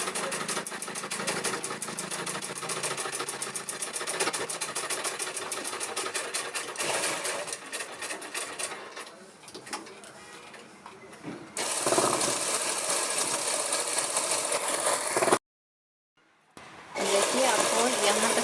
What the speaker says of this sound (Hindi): इसे इस तरह से अब सिलाई लगा लेंगे।